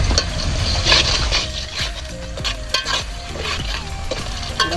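Rice and vegetables are stirred in a pot outdoors in a forest clearing, with brisk repeated scraping and clinking of a ladle against metal over a loud, steady frying hiss, close by.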